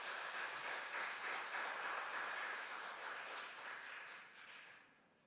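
A church congregation at a Sunday worship service claps for the youth choir, a brisk, even patter of hands that holds for several seconds and then fades away.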